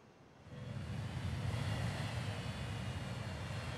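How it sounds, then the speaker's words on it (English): Airplanes flying in a transport simulation game, a broad engine roar that swells in over the first second and then holds as a steady, moderately faint drone. "So now I've got planes flying everywhere"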